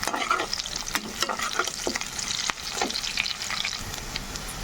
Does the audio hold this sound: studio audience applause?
no